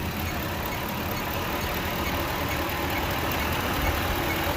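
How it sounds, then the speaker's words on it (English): A 2008 Ford F150 3V engine runs steadily under load with the AC clutch engaged, a continuous low droning hum with a broad hiss on top, even and unbroken throughout. "Now listen to this engine whenever I engage it, whenever I send power down there to that circuit"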